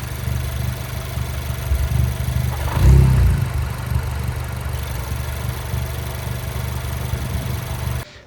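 Inside the cabin of a VW Mk7 GTI with worn engine and transmission mounts, a steady engine drone hums with a low rattling chatter, swelling briefly around the middle before easing back to a constant level.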